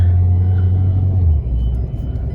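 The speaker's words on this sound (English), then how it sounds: "We taking this thing on the test drive" Car out on a test drive after a fix-and-flip repair, its engine giving a loud low rumble that rises and then drops as gears change, close and steady with no talking.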